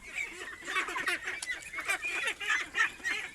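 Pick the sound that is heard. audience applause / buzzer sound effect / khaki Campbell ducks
khaki Campbell ducks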